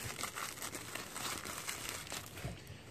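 Packing tape peeled from a new engine part for a GY6 180cc scooter top-end rebuild, giving a close, continuous crackling and crinkling rasp that lasts a few seconds with no voices.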